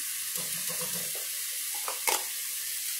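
Hamburger meat browns in a pan with a soft, constant sizzle, a few faint stirring scrapes and a brief louder clatter near the end, with no one talking.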